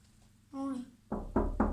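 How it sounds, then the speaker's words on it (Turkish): Three firm knocks on a door come in quick succession, loud and close, right after a brief voiced sound. "Kapı çalmış."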